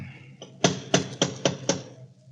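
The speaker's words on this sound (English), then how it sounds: "Go ahead and knock." Knocking on a door of an old, neglected country house, five firm evenly spaced raps after a faint lighter tap, close and distinct with no voices over them.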